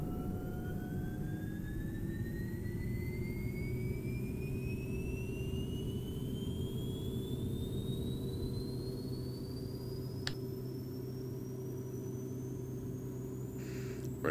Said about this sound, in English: Right engine coming online.